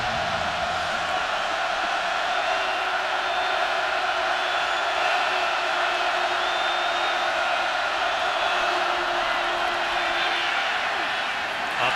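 Large crowd at a college football stadium during a Wisconsin at Penn State Big Ten game, a steady broad roar of cheering that holds for the whole stretch with no breaks.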